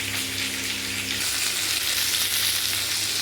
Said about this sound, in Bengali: এবার সিমটা তুলে দিলাম এবার এগুলোকে একটু ভালো করে ভাজবো